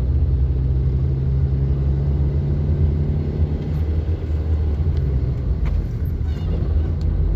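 A car rolls toward a river bank near the village of Katyaevka, a steady low engine and tyre rumble heard from inside, continuous with no talk.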